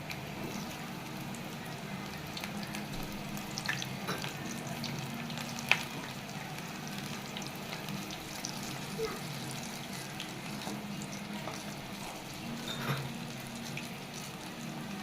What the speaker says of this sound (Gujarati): ભજીયા પાડતા જશું આવી રીતે હાથે આમ છૂટા છૂટા તળવાના છે